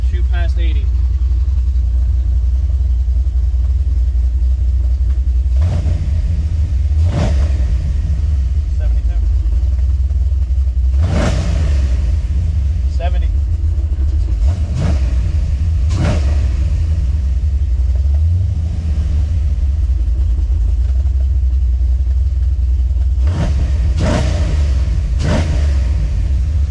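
LS V8 swapped into a Nissan 350Z, revving up to about 5,000 RPM: a loud, steady low engine rumble running throughout, with several sharp rev surges and people talking over it.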